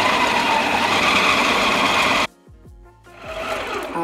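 An electric mixer runs loud and steady while whipping vegan buttercream for red velvet cupcakes, then cuts off abruptly partway through, leaving a short quieter gap before a softer motor-like whir returns.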